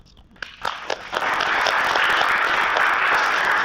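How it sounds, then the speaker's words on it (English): An audience bursts into applause for the parents, starting with a few scattered claps and swelling into steady, dense clapping. "So give yourselves a round of applause."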